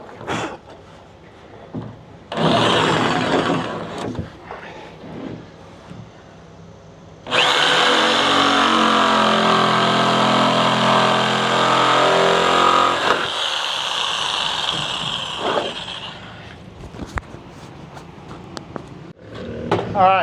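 A power saw cuts a notch into a plywood panel for a truck camper build on a 2023 Nissan Frontier, a loud sustained burst of about six seconds framed by quieter handling noises and brief talk.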